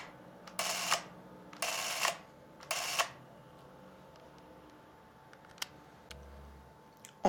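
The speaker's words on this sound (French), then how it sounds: "En appuyant légèrement sur le déclencheur, le film avance." An Agfa Movexoom 6 Super 8 film camera runs in three short bursts of whirring mechanism as the film advances, each about half a second long, followed by scattered faint clicks of the trigger.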